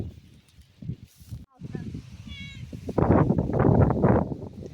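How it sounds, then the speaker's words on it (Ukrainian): A friendly village cat gives a couple of short meows outdoors in a yard while a person talks over it. "Ось такого гарного мурчика ми побачили."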